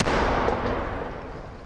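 A bomb detonates in the open air above the surface, giving one heavy broadband blast that is already ringing at the start and then fades into a long, rumbling decay with no voices.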